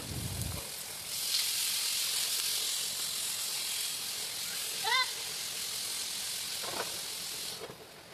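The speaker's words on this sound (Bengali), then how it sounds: "তেল দিয়ে সুন্দর করে আগে আলুগুলো ভাজাভাজি করে নেব" Potatoes fry in oil with panch phoron and a few green chillies, giving a steady, close sizzling hiss that holds for the whole stretch, with a couple of faint chirping sounds over it.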